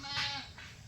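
A single short sheep bleat on a farm, close and fairly clear, followed by a fainter second bleat.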